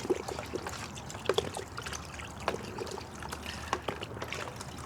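Liquid rinseless wash trickles and splashes into a bucket holding about four gallons of water, a short, close, uneven pour with small bubbling spikes over quiet background.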